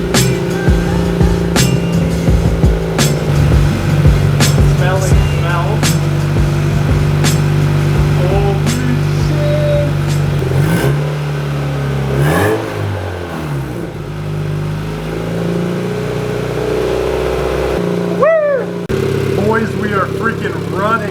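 Up close, a turbo Honda Civic engine idles with a steady low hum, then revs up and down in several rising and falling sweeps before settling back, with voices talking over the engine.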